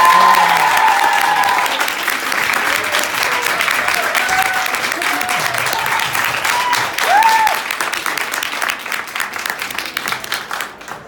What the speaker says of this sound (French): je vous demande d'applaudir Neil Shusterman!